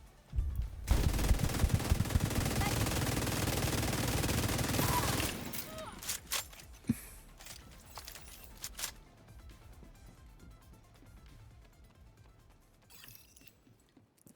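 Sniper rifle fire in a shooter video game comes as a loud burst of rapid shots for about four seconds, then scattered single cracks and clicks trail off over quieter background game sounds.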